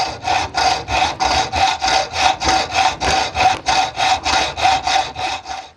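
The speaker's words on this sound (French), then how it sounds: "Donc enlever la matière, donc mise à l'étau et à la scie métaux." Steady back-and-forth hacksaw strokes rasping through metal held in a vise, about three strokes per second, loud and close with no talking.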